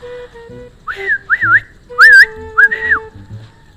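A person whistles to call dogs, a series of four short, rising-and-falling calls, close and loud, with brief gaps between them.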